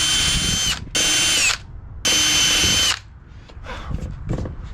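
A power drill pre-drills soft 2x4 construction lumber for a bed frame, with two loud, steady whirring bursts of about a second each and short pauses between them, then quieter handling noise.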